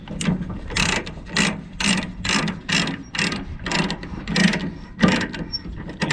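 Ratchet load binder cranks a chain tight on a truck load: a rhythmic series of about eight loud, close ratcheting clicks with steady strokes, no talking.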